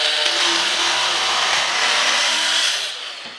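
A homemade battery-powered cordless drill cuts through a plastic pipe, giving a loud, continuous, rough whirring grind close by that holds steady before tapering off at the end.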